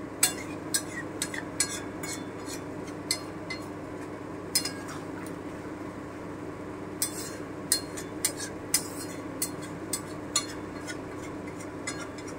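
A spoon stirs chicken kosha in a cooking pot, giving light, irregular metallic clinks and scrapes, about a dozen taps spread over a quiet, steady background hum.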